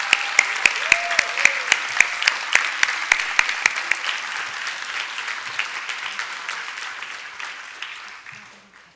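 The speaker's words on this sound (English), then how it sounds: "Please give yourselves a huge round of applause." A crowd at a 2022 grade 5 promotion ceremony breaks into applause for the graduating class, opening with a few loud, distinct claps that spread into dense, steady clapping and slowly fade out by the end.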